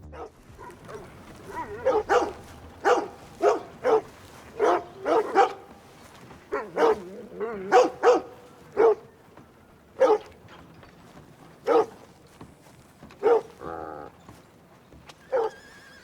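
A dog barks repeatedly outside a grocery store window in Red Dead Redemption 2, loud, separate barks in an irregular rhythm, mixed with horse whinnies and clip-clopping hooves nearby.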